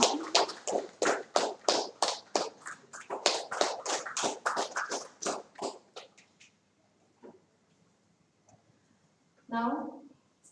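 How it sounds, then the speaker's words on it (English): Audience at a national seminar on IoT gives a round of applause: a small group's distinct, closely spaced claps for about six seconds, then fading, followed by a short burst of speech. "Please give us your round of applause."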